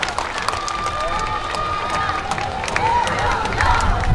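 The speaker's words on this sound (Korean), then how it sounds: "우리 같이 고생해주는 모스트 하모니 댄스팀에게도 좀 박수 부탁드리겠습니다" An outdoor festival audience in Chuncheon claps and cheers for a dance team, a loud, sustained crowd roar with shouts and whistling-like cries that swells toward the end.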